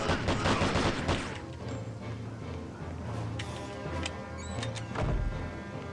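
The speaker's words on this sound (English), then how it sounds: "Well, I've got a gun. It's all good now. 3 bullets." Gunfire in the stealth video game Hitman 2: Silent Assassin sounds as a few sharp, close shots amid a busy, noisy game background.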